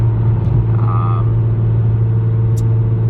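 Built Nissan GT-R street car with a Jax 1200 transmission and Datsun dog-gear set, driven on the road to work: a loud, steady engine drone and low rumble fills the cabin without a break.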